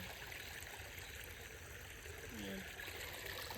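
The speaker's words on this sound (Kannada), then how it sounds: "ನೀರು ಹರಿತಾ ಇದೆ" Water flowing through a small channel beside a paddy field, a faint, continuous trickling rush with a brief chirp-like tone partway through.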